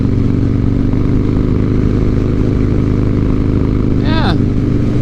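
A Harley-Davidson motorcycle cruising in sixth gear at highway speed, a loud steady engine drone mixed with heavy wind rush from start to finish, and someone speaking over it.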